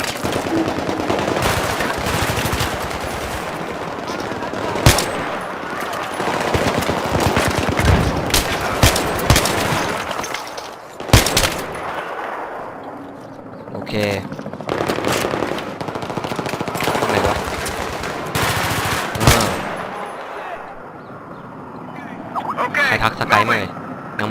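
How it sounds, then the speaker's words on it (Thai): Battlefield 3 gameplay with loud, close bursts of automatic gunfire and single shots, dense and rapid at first, then sparser, with someone talking over the firefight. "โอ้ยมันยิงมาข้างบนเลย"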